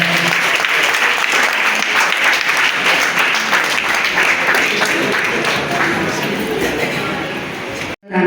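An audience at a residents' association tenth anniversary celebration in Pallippuram applauds loudly and steadily for several seconds, and the clapping cuts off sharply near the end.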